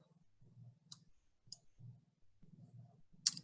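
Computer mouse clicks at a desk during an SAP ERP and USPS workflow demo, a few sharp isolated clicks spread over a low steady background hum, with one louder click near the end.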